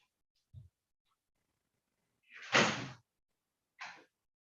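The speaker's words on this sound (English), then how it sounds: "Let me just open the door." A door in a home is opened for an arriving AC repairman: a faint low knock or latch click, then a louder broad swoosh or clunk of the door moving, and a shorter scrape soon after, with no talk.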